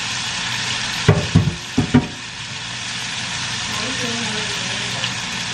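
Food frying in a frying pan gives a steady, moderate sizzle with a few sharp scraping knocks of stirring near the start, while a voice talks over it.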